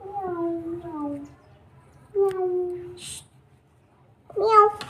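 A voice imitates a cat's meow three times, each a drawn-out, tuneful mew separated by short pauses, close and clear against a faint low hum.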